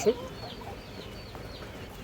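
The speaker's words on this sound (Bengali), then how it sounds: "এই যে দেখেন মুজাওয়ালা ব্রাহ্মা মুরগি" Feather-footed Brahma chickens cluck on a farm, one brief close cluck at the start and then only a faint, low background murmur.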